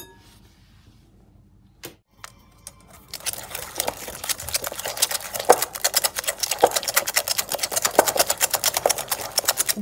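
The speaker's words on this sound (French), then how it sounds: "Moi, je le fais avec un fouet." A whisk beats almond filling for a galette des rois in a bowl. After a quiet start and a few knocks, it settles into fast, steady, close metallic ticking that stays even to the end.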